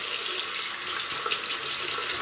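Tap water runs steadily into a sink while a razor is rinsed under it, a close, even hiss and splash with no voices.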